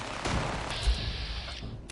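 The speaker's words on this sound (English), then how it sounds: "Stop shooting at me." Gunfire in the video game Fallout 4, a dense burst of overlapping shots with a sustained ringing tone in the middle, close and loud throughout.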